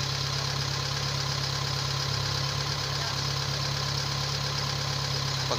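A misfiring car engine idles loudly and roughly nearby, its steady drone broken by uneven knocking pulses partway through.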